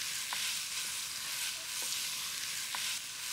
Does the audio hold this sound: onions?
yes